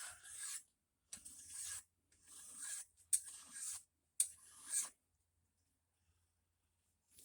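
Hand file rasped in one-way strokes across a B20 VTEC cylinder head gasket surface, five close scraping passes of about half a second each separated by brief pauses, then quiet.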